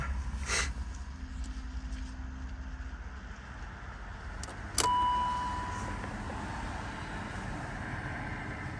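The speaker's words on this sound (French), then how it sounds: "Attendre que la voiture finisse de passer." A car passes on a French motorway, a broad rushing sweep that swells and fades beside a broken-down vehicle, followed by a faint steady hum.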